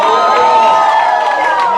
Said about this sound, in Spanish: Que alguien alabe a Dios con un grito de alabanza, por favor.